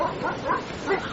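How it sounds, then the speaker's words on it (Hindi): Several dogs bark and yip in a loose, overlapping burst, moderately close, with a few higher whimpering notes. "उसे अपने पीछे भागते हुए कुत्तों की आवाज सुनाई दी।"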